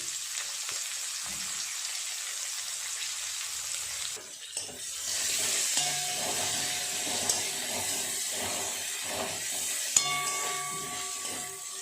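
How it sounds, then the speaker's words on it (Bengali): Chopped onions frying in oil with black cumin seeds and green chillies for a rohu fish poppy-seed curry sizzle steadily up close; the frying grows fuller partway through as stirring scrapes sound, and no one speaks. "পেঁয়াজটা ভালো করে ভেজে নেবো"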